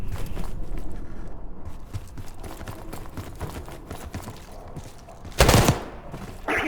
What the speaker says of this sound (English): You hearing gunfire? Yeah. Sounds like it's coming from one of the lower floors.